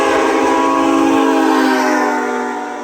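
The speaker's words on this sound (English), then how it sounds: "You want your truck to sound like a freight train?" Nathan AirChime K5HA train horn mounted on a truck blasts one long, loud, sustained multi-tone chord, close by, fading slightly at the end.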